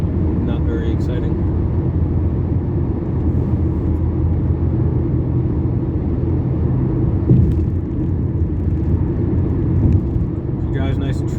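A 2011 Ford E350 wagon cruising on a road in Savannah, Georgia at 77 mph and about 2,500 RPM gives a steady, loud low cabin rumble of engine and tire noise that holds constant throughout, with a couple of faint brief bumps.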